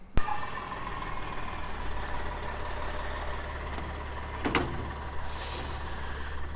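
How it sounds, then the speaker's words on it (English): A cattle truck arriving on a farm during corn harvest, heard as a steady low diesel rumble with a sharp air-brake hiss and a couple of clanks, fairly close and with no voices. "truck coming in, cow's gonna come out"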